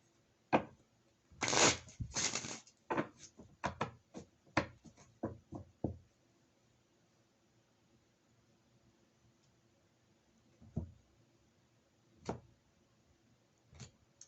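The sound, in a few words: shuffling tarot cards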